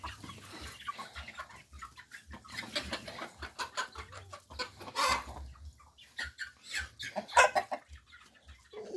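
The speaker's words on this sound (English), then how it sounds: "Introducing the new chicks to the old chicks." Chickens cluck and chatter in a farm pen as newly added chicks mix with the older flock, dense overlapping calls from several birds near and far, with a sharper squawk or two standing out.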